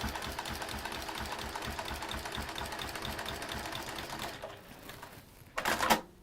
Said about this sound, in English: Would you do a bit of reverse stitching at the beginning?